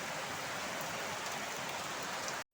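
Heavy rain falls in a dense, even roar that holds steady with no voices. It cuts off abruptly just before the end.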